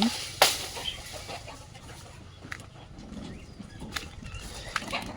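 Silkie and Aseel chickens cluck softly nearby in scattered bursts, with a sharp squawk near the start and faint outdoor background noise.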